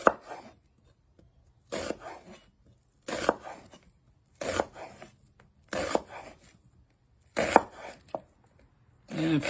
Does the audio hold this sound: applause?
no